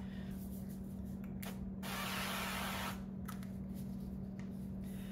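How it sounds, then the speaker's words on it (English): Cooking spray hisses onto a 9x13 baking pan in a few short bursts and then one longer spray, close and soft over a low steady hum from the room. "I'm gonna spray it"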